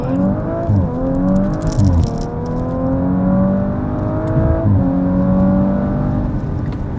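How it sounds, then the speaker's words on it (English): An Audi RS5 Sportback engine droning steadily and loudly from inside the car as it drives, with its pitch rising and dipping through gear changes, plus a low rattle and road rumble underneath. "The first thing is it gets much louder and much more responsive and becomes like a real RS5."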